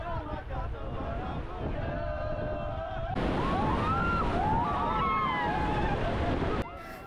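River rapids and waves slap around a raft on the Bhotekoshi, the water freshly swollen by rain, a constant loud rushing close by, with voices calling and whooping over it.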